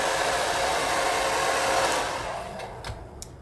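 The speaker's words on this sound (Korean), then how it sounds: "성격이 급해서 드라이기로 켜버렸어요" A handheld hair dryer blows steadily and loudly up close while styling frizzy front bangs, a broad continuous rush that softens toward the end as it is switched down, with a few faint clicks near the close.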